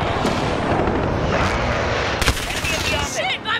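Explosions and gunfire from a precision airstrike in the video game Call of Duty: Modern Warfare, a loud rumbling barrage of blasts with sharp cracks, mixed with battlefield noise and radio-style game voices.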